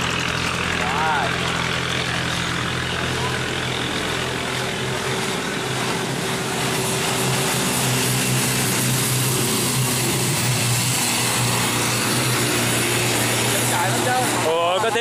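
A Vietnamese longtail speedboat, a võ lãi, roars continuously and loudly at close range as it passes, with a droning engine and rushing water throughout and talk over it.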